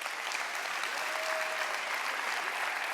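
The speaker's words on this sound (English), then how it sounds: "We all give them a round of applause." An audience at a video operating and directing event applauds, steady dense clapping from many hands heard at a distance, sustained evenly throughout.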